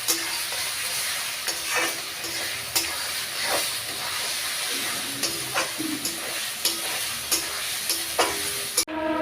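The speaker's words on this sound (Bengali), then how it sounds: "এবার এটাকে হালকা করে কষাবো।" Ginger, garlic and green chilli paste being stir-fried in a hot pan, a steady close sizzle broken by regular scraping strokes of a spatula every second or so, ending with a sharp clunk.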